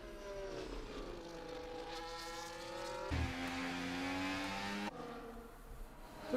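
Aston Martin race cars in a racing video game drive through a race at Belgium, their engines whining with rising and falling pitch as they accelerate and shift. The sound is steady and fairly faint, with no voices.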